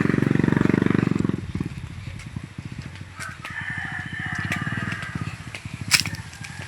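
A motorcycle engine putters close by in a steady, rapid pulsing idle, louder at first and then settling, with faint background noises mixed in.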